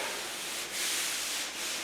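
Steady rhythmic rubbing of a sanding block over body filler on a car body panel, a few long back-and-forth strokes with a brief pause between them.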